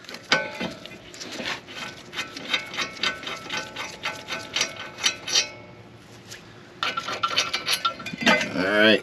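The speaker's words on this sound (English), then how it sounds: "Now we're going to take off the caliper bracket." Metallic clinks, taps and rattles of tools and parts as a car's brake caliper bracket is removed, irregular and close, with a brief pause midway and a burst of clatter near the end.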